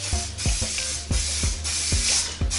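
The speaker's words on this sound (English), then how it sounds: "just spray the bottom with some cooking spray" Cooking spray hisses onto the bottom crust of a frozen Digiorno rising crust pizza in short repeated bursts, five or six close, loud spritzes in quick rhythm over a steady background hum.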